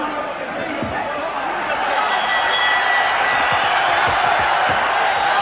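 A boxing arena crowd at a 1988 bout between Francisco Tomás da Cruz and Barry McGuigan roars in a steady, dense wash of cheering and chatter, swelling slightly midway and holding loud throughout, with occasional thumps beneath.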